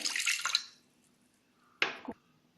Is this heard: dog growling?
no